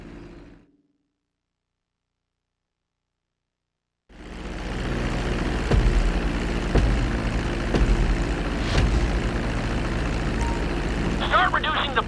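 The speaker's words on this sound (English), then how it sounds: "Start reducing the plane's altitude gradually so you're just above the runway as you approach" A plane's engine drones steadily during a GTA V landing approach, rising after a few seconds of silence into a loud continuous roar with faint game sounds on top.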